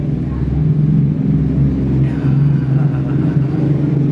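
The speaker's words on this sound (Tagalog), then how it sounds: "Piyesta kasi ngayon dito kaya sobrang daming sasakyan." Noisy motor vehicles pass in heavy fiesta traffic in a Philippine town. A loud, close, steady low engine rumble fills the clip, with a brief rev partway through.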